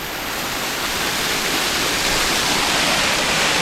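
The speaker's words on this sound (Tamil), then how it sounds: "இங்கே பாருங்க ஃபால்ஸு பாருங்கள், கிட்டக்க போய் காட்டுற வேணாலும்." A small waterfall in Kanthalloor, Kerala, roars steadily and close by, a dense, unbroken rush of falling water with no voices over it.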